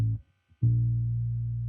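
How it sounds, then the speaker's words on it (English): Deep bass line from an electric guitar sound pitched down an octave, two sustained low notes with a brief near-silent gap between them, clean and steady with no voices. "which is actually just an electric guitar sound shifted down 1 octave"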